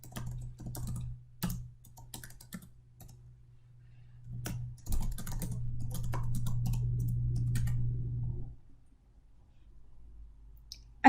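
Soft, quick keystrokes on a computer keyboard enter an email address, a faint irregular patter of clicks over a low hum, with no talking.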